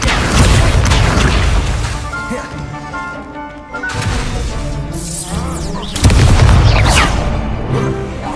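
Incendio fire spells cast in Hogwarts Legacy, loud booming bursts of flame over dense game music and effects, several heavy whooshing blasts in quick succession, with excited shouting mixed in.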